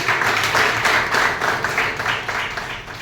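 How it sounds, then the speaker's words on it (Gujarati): Audience applause at a retirement farewell for a long-serving cottage hospital worker in Bhiloda: dense, steady clapping from a crowd, fairly close and sustained for a few seconds, easing slightly at the end, with no talking over it. "સર્વ તાળીઓથી આપણે વધાવીશું"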